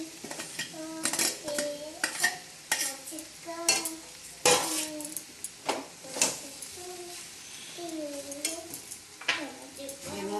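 Potatoes being stirred into a fried mixture in a pan, with a metal spoon clanking and scraping repeatedly against the pan over soft sizzling, close and fairly loud, while a person talks intermittently.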